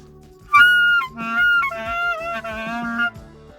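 A clarinet played with too much mouthpiece squawks out shrill, strained tones, several harsh notes in a row, loud and close, with no talking.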